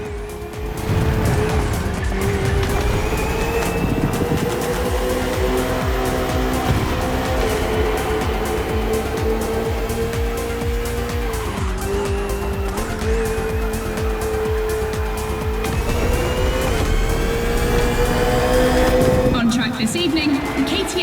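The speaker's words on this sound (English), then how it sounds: "This evening, the KTM RC16 takes on the Ferrari 488 GT3." Race engines from a KTM RC16 motorcycle and a Ferrari 488 GT3 on a circuit in The Crew Motorfest, a loud, continuous high whine that rises and drops with gear shifts, with occasional tire squeal throughout.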